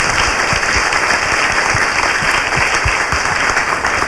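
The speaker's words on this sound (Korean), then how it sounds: "박수 부탁드려요." A studio audience at a Korean talk show applauds steadily, a thick, even rattle of many hands clapping at close range with no voices over it.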